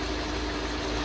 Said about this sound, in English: yeah, this has a bad misfire